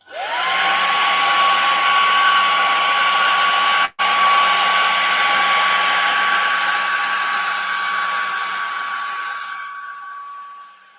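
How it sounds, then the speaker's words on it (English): A hair dryer blows steadily on freshly painted stencil work with a loud, close whoosh and a high whine, cutting out for an instant before resuming and slowly fading toward the end. "quickly hit this with the hair dryer"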